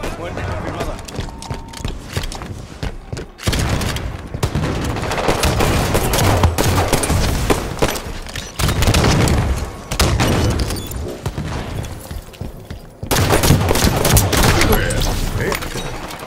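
Enemy gunfire in Halo 5: Guardians arena play, heavy sustained bursts of rapid shots and booms filling the scene continuously, broken by brief gaps, with a voice speaking over the battle.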